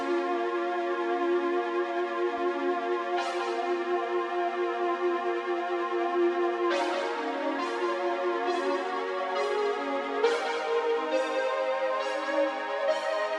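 A bright synthesizer melody with a gentle chorus shimmer, steady sustained notes shifting in pitch with a few sharper attacks, playing alone at moderate volume.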